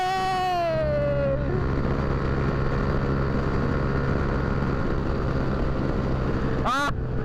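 Motorcycle fitted with an aluminium exhaust idles steadily with a loud, continuous engine drone throughout, close to the mic, with a brief rising whine near the end.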